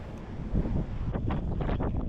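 Strong Pacific Ocean wind on the bluffs at Taiwan's southern tip roars and buffets the microphone continuously, with gusty low rumbling and bursts of broadband noise, loud throughout and no voices.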